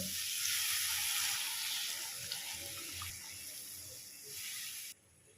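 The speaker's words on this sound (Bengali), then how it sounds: "এবার দিয়ে দিচ্ছি জল।" Water poured into a pan of fried potatoes for a shankar fish masala curry, a loud steady sizzling rush lasting several seconds before cutting off abruptly.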